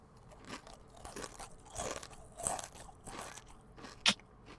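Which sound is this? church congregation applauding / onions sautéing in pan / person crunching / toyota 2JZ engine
person crunching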